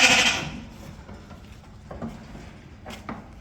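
Ewes and lambs bleat on a farm, with one loud, close bleat at the start, then fainter calls and light rustling from the flock.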